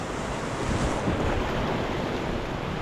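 Strong wind buffets steadily, a loud continuous rushing roar with gusty swells, like open water in breezy conditions.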